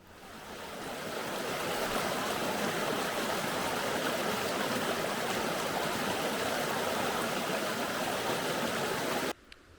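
A river rushes down a steep descent with a dense, steady wash of flowing water, close and fairly loud, building over the first seconds and then cutting off abruptly near the end.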